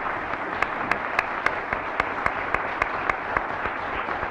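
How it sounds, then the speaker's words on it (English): Applause at a city council meeting for police officers, a dense wash of clapping with several sharper claps standing out at a regular pace, moderately close and continuous throughout. "give them a round of applause"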